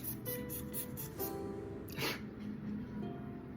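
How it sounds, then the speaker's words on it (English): Two short hissing bursts from an aerosol glitter spray can, close by, over quiet room noise with a faint voice in the background. "I got this like spray glitter"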